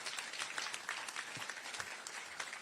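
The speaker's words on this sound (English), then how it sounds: "you can give him a big round of applause." Audience applause fills a hall at the Houston Livestock Show and Rodeo's First Responders Day honors and awards ceremony, a steady, dense patter of many hands held at an even, moderate level throughout.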